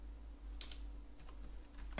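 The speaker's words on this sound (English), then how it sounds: "I'm just going to type in my name" Computer keyboard typing in short bursts of a few light key clicks with gaps between them, close and quiet over a faint steady hum.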